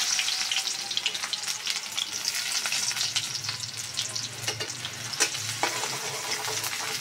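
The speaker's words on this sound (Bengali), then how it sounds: "চুলায় কড়াই বসাইছি, কড়াইতে সরষের তেল গরম করে নিয়েছি। এখন পেঁয়াজ কুচি দিয়ে দেবো।" Chopped onion hitting hot mustard oil in a wok for a Bengali hilsa and taro curry, a loud continuous sizzle with crackling pops and the scrape of stirring, close and without talk.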